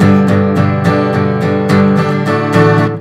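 Guitar strummed hard on every stroke with no accents, a loud, even run of about ten dense chord hits at a steady pace, harsh and unvaried.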